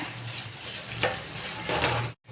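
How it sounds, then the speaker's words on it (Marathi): Fenugreek sautéed in oil in a pan, a soft steady sizzle with a couple of brief louder scraping stirs, close by before cutting off abruptly. "आता परतून पहा तिला पण चांगलं तेलामध्ये असं परतून घ्यायचं आहे"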